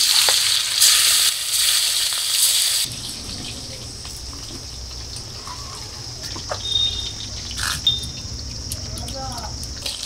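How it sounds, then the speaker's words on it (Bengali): Golden rohu fish frying in hot mustard oil in a wok, a steady crackling sizzle that runs through the whole stretch, louder and brighter at first and then settling into a softer, even fry. "ভাজার জন্য কড়ার মধ্যে দিয়ে দিচ্ছি সরষের তেল।"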